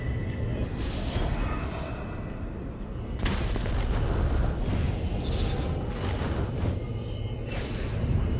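Guns fire from a game vehicle in a video game, bringing a dense, continuous barrage of booming explosions and rumbling blasts with periodic sharp bursts, loud throughout.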